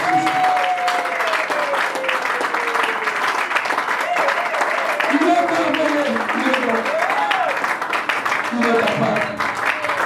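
A church congregation applauds in steady, sustained clapping while a voice speaks or calls out over it and other voices rise and fall in the mix.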